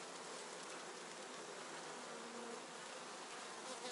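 Dense, steady buzzing of many worker honeybees at an open hive frame with a drone-laying colony, a continuous swarm-like hum filling the whole stretch with no voices.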